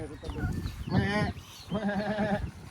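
Goat on a Philippine farm bleating in two wavering, tremulous calls, each about half a second to a second long, fairly close and loud, with people talking around it.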